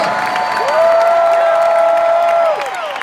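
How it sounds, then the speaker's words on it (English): An audience at a Les Brown motivational event bursts into applause, dense clapping swelling loudly with a long sustained whoop and cheers over it before easing off. "Let's give them this round of applause."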